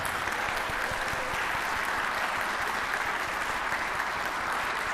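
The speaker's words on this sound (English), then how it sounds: "Give yourselves a round of applause." Sustained, dense audience applause fills a hall at a televised Ohio Democratic U.S. Senate primary debate, loud and even throughout with no break.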